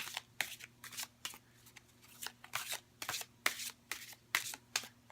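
An oracle card deck is shuffled by hand, giving quiet, rhythmic riffling bursts about every half second against a low background hum.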